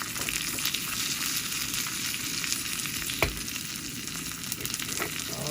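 A steady, dense crackling sizzle of mustard seeds and asafoetida powder spluttering in hot oil, with one brief sharper pop partway through.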